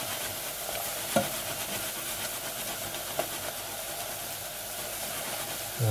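Chips fry in oil in a pan with a steady, dense sizzling hiss, close and even throughout, broken by a couple of faint clicks from a utensil.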